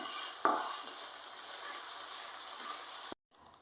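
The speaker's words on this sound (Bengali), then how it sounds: "এখন এই যে আদা রসুনের পেস্টটা যে এটা দিয়ে কিছুক্ষণ ভেজে নিব" Ginger garlic paste fries with onions in oil for a chicken curry, a steady close sizzle with a stirring scrape near the start before cutting off abruptly.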